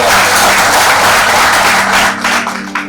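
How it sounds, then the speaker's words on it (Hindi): A large crowd claps loudly and steadily at a live Hindi comedy show, the dense applause thinning slightly toward the end. "तालियां बजाओ इसके लिए"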